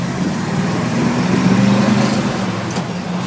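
A 1973 Ford F100 pickup truck engine accelerates in first gear, a steady close mid-low drone that swells slightly in the middle and holds without any talk.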